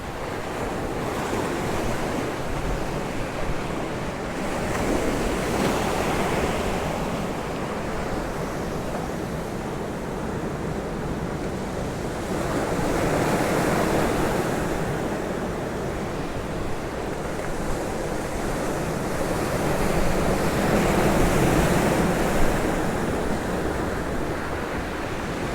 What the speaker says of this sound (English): Really big waves coming in now.